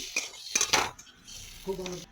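Fried potatoes are moved from a pan onto a metal plate, with sharp clinks and scrapes of metal on metal in several quick bursts and a short ringing tap near the end.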